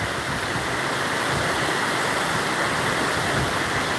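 A waterfall on the river at High Falls State Park in Georgia roars as a loud, steady, unbroken rush of falling water, close by and with no voices over it.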